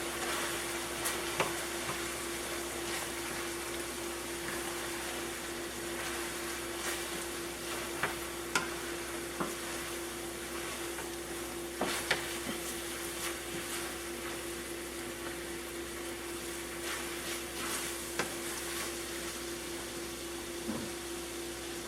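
Flour being stirred into browned ground beef in a hot pan, a steady close sizzle running throughout with light scraping stir strokes and occasional utensil clicks, no voices.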